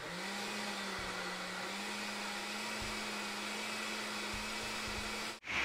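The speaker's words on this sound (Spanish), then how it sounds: "Ahora vamos a licuar." Steady whirring drone of a kitchen blender blending banana for atole, holding an even motor pitch for several seconds before cutting off abruptly near the end.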